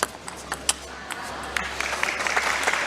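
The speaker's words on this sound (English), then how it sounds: "Crowd certainly encouraging every point." Spectators at a professional table tennis match applauding between points, a few scattered claps building into steady, moderately distant applause.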